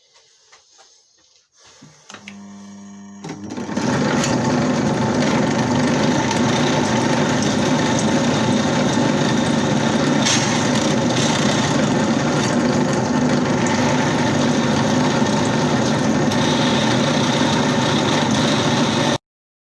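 A wood lathe starts up from quiet and settles into a loud, steady motor hum with a constant whine and rough grinding texture as it turns the workpiece, running unbroken, with no voices.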